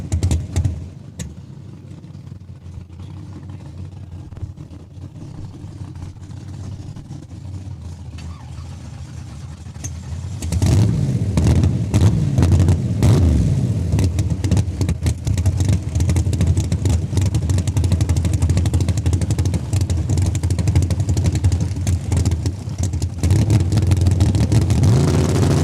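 Drag racing cars run at Saskatchewan International Raceway. A quieter, lower engine rumble gives way to a loud, sustained full-throttle roar that dominates the rest of the clip with slight wavering in pitch.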